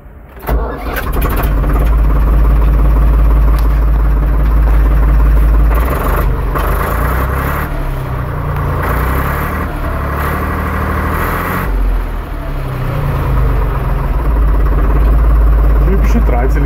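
A Deutz DX 3.30 three-cylinder tractor engine cranks, catches and settles into a loud, continuous rumbling idle with a steady low throb close by, and someone talks at points.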